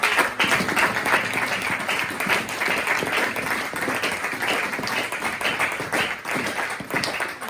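A church congregation applauds in a dense, sustained wash of many hands clapping at once, steady and fairly loud from start to finish with no pause.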